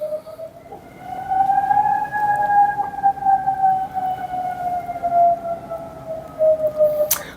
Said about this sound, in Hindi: तो सायरन बज रहे हैं।